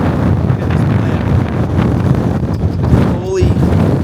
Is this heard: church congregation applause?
no